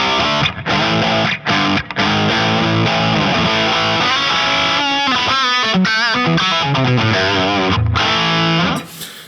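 Electric guitar driven through a Dirty Boy preamp pedal at 9 volts, variac fully up and tone low, plays loud, continuous distorted riffs and chords with brief pauses before ringing out near the end.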